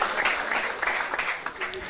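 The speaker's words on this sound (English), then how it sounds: "A big applause." Applause ripples through the audience at a physics tournament closing ceremony, a dense patter of clapping with a voice speaking over it, heard from within the room at moderate loudness.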